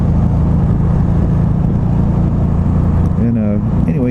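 A 2010 Can-Am Spyder RT three-wheeled motorcycle idling up close, a loud steady low engine rumble that continues throughout, with a brief tonal sound over it near the end.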